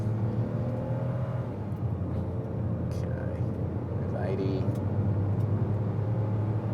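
A Mahindra XUV 3XO accelerates hard from a standstill with some wheel slip, its engine drone rising steadily under a voice, heard from inside the cabin.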